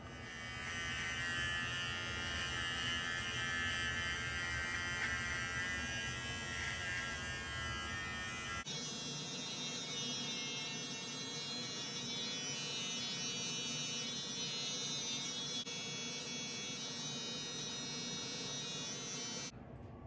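A Remington T-Series MB7050 hair and beard trimmer runs steadily for the whole stretch, a close, continuous electric buzz that shifts pitch once midway as if under changing load, with no talk.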